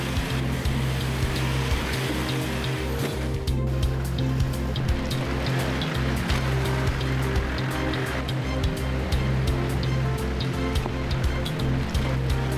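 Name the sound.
Toyota Troopy 4WD climbing rocks through falling tide water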